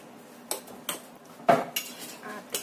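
Seasoning mixture being stirred in a bowl with a metal spoon, giving a handful of sharp clinks and scrapes at irregular intervals, close and moderately loud with no talking.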